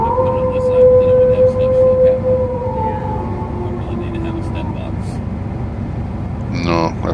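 A horn-like siren tone played from a device inside a convoy truck, a steady wail that slowly falls in pitch over several seconds against loud cab rumble, with a brief chirp near the end.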